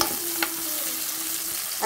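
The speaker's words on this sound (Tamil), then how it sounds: "நல்லா வதக்கி விட்டுருங்க ரொம்ப வதங்க வேணாம் மீடியம் ஃப்ளேமில் வச்சு வதக்கிடுங்க" Steady sizzling of onions sautéing in a pan over medium flame, a continuous crackling hiss with a faint tonal hum and a couple of soft clinks of stirring.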